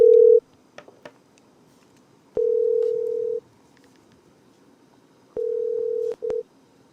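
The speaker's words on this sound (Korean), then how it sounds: "다음 분은 지금 전화를 걸도록 하겠습니다." Telephone ringback tones sound during an outgoing call placed to a caller for live advice, steady beeps of about a second separated by silences, with faint clicks and a short double tone at the end.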